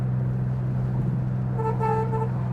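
A 1964 Corvair sounds its horn: a few short toots in quick succession, moderately loud, over a steady low idle hum from the car.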